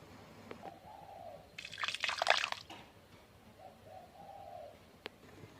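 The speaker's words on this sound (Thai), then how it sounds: "ตักน้ำมาล้างครก" Water scooped and splashed into a mortar to rinse out chili curry paste while making a gourd curry with dried fish; one short burst of pouring and sloshing, with soft bird coos in the quiet background.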